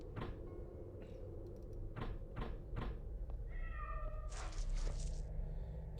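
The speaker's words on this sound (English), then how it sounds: "Kitty!" A cat meows a few times inside the video game The Lost Crown, set against a steady ambient bed with a bright chiming tone late on and no talk over it.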